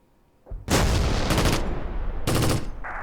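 Gunfire in the Close Combat video game, a sudden roar of dense automatic shooting and explosions in long loud bursts, a brief lull between, then another heavy burst, with no voices.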